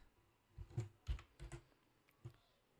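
Several faint, close keystrokes clack on a computer keyboard in an irregular rhythm, about half a dozen soft taps spread across a couple of seconds in a quiet room.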